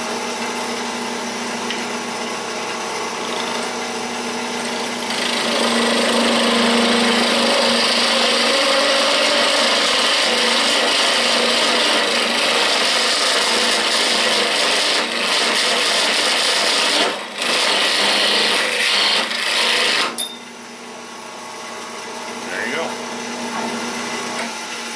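A wood lathe with a cutting tool turns a wooden file handle, giving a loud, steady, harsh roar that swells after a few seconds, runs for about fifteen seconds and then drops off sharply.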